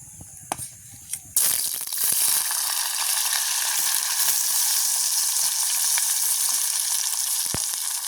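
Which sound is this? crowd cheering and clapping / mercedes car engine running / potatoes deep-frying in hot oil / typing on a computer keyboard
potatoes deep-frying in hot oil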